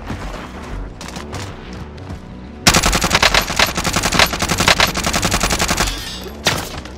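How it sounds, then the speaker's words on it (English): Sudden heavy automatic gunfire erupts in Call of Duty: Modern Warfare Rebirth multiplayer, a loud dense rattle of shots lasting several seconds after quieter game ambience, ending with a lone final shot. "I'm under fire."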